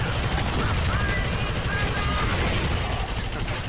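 Rapid continuous gunfire from a weapon in Alien Swarm co-op play, a dense, loud stream of shots sustained throughout, with voices over it.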